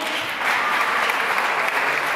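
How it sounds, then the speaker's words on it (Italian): An audience at a round-table event claps in a brief, even burst of applause, a steady mass of hands at moderate loudness with no talking. "farei un applauso."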